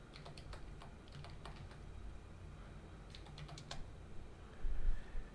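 A password is tapped out on a computer keyboard in two short bursts of light, quick keystrokes, with a pause between them, over a low room hum.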